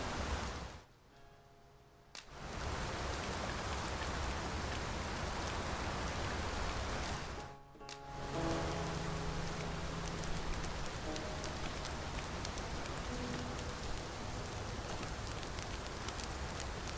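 Steady rain falling in the video game Dragon's Dogma 2, a dense continuous hiss that drops out briefly twice, with faint tonal game sounds beneath.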